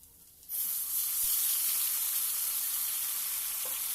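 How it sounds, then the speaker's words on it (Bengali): Whole cumin and ground spices hit hot oil in a kadai, bursting into a loud, steady sizzle after a brief quiet start and holding strong to the end while being fried for a thin fish curry. "ওই কড়াইয়ের মধ্যেই প্রথমে গোটা জিরে ফোড়ন দিয়ে তার মধ্যে মশলাটা দিয়ে খুব ভালোভাবে কষিয়ে নিতে হবে"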